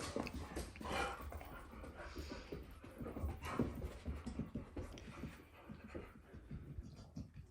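Dogs whimper and pant close by as they are let into a room, the whining and breathing steady and continuous throughout with no talk.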